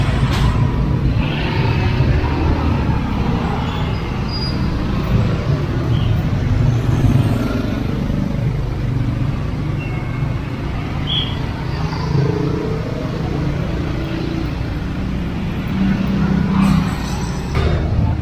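Congested traffic at the Tlogomas bridge: a continuous rumble of idling and slowly moving cars, buses and trucks, with occasional engine revs and passing vehicles nearby.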